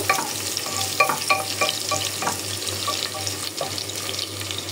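Beef with ginger, garlic, cumin, turmeric and chili being stirred and sautéed in oil in an open pressure cooker, a steady close sizzle with repeated scraping stir strokes, no talking.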